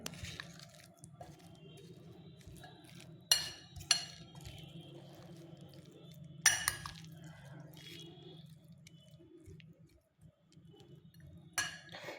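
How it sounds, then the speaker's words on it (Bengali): A spoon stirs soaked sago and fruit in a bowl, with occasional clinks against the dish and soft wet squishing, quiet and close over a low background hum. "দিয়ে এটাকে ভালো করে মিশিয়ে নিতে হবে সুন্দরভাবে। একটু ফলগুলোকে ছাড়িয়ে ছাড়িয়ে মিশিয়ে নিতে হবে।"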